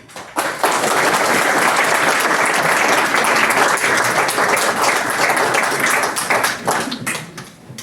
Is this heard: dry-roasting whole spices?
no